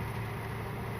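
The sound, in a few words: C4 Corvette engine idling high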